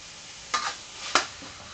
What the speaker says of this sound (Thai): เดี๋ยวเราต้องผัดสไตล์บ้านเรา